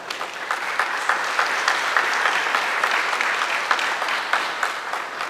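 Sustained applause from an audience at a civil society and journalists' gathering, dense steady clapping throughout with no speech over it.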